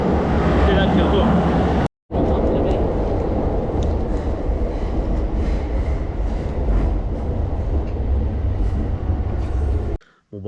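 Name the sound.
metro train ride in Japan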